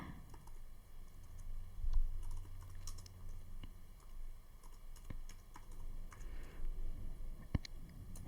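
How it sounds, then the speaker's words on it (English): Soft clicking of a laptop keyboard as someone types into a browser search bar, in irregular quick bursts of keystrokes with a few sharper taps, close and quiet. "in the search bar, type in Zoom download"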